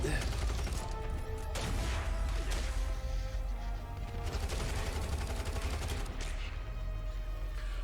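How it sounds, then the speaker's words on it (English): Dense, sustained gunfire from the sci-fi film Cosmic Sin, a continuous barrage of overlapping shots and crashing impacts at loud, steady level with faint voices mixed underneath. "Who's firing on who?"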